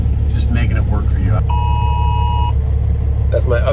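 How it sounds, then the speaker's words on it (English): A phone emergency alert for a flash flood warning sounds inside a truck cab, a steady multi-tone electronic beep lasting about a second over a constant engine rumble, with someone talking before and after. "Little flash flood warning, weather service thing."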